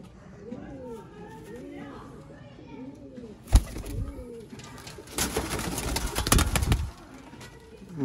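Sialkoti breeder pigeons coo repeatedly in soft, rolling calls, interrupted by a sharp knock and a burst of wing flapping and rustling.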